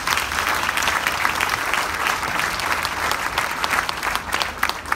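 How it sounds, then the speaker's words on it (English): A dense, sustained round of audience applause at a public gathering, many hands clapping steadily and fairly loud for several seconds with no talk over it. "So let's give a round of applause to everyone."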